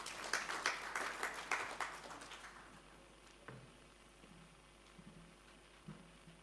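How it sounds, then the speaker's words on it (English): An audience at a climate roundtable conference claps in a burst of applause that lasts about two seconds and then fades, leaving quiet room noise with a few faint knocks. "give a round of applause, the Regional Director of World Food Program"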